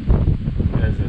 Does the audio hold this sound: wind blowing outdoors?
yes